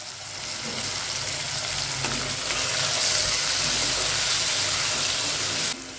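Salted tomatoes sauté in oil in a clay pot, making a dense, continuous sizzling hiss that swells slightly midway and stays close and steady before cutting off.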